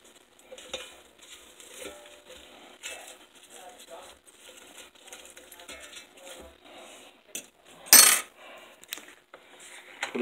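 Barbecue-seasoned chicken wings sizzle faintly in a pan as they are poked and shifted, with small scrapes and clinks and one sharp loud clatter near the end.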